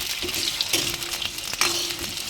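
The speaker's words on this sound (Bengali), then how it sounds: "আলুগুলো ভেজে দিলাম ঝপঝপ করে, একটুখানি কড়া করে ভাজতে হবে" Potatoes fry in oil in a pan with a bright steady sizzle, close and moderate, punctuated by a few soft scraping stirs.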